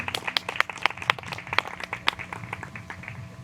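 Audience applause for a band at an outdoor peace picnic, a scattered patter of hand claps with a few louder nearby claps, steady for a few seconds and then thinning out.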